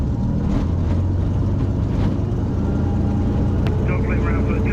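A light aircraft engine runs up during ground checks, a loud steady droning hum with strong low harmonics filling the clip, while a voice talks over it.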